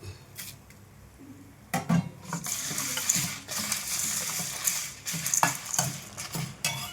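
Coriander, chana dal, urad dal, pepper, cinnamon and cloves roast in a pan for vangibath gojju, with a soft sizzle under repeated scraping and stirring of a utensil against the pan.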